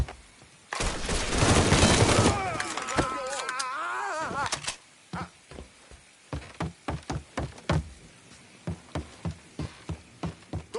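Mafia III gunfire plays under shouting voices, a dense loud volley of shots followed by a long run of evenly spaced single reports, each sharp and close.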